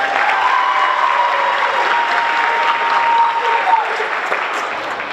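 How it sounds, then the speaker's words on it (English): An audience at a high school JROTC military ball applauds loudly, a continuous wash of clapping from a large crowd holding steady for several seconds. "So a round of applause once again for everybody."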